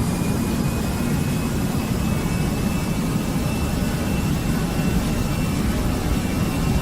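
Airliner engines at flex takeoff power on a flight from Singapore's Changi to Bali's Ngurah Rai, a steady, loud, unbroken roar with a deep rumble beneath a broad hiss, as heard from on board.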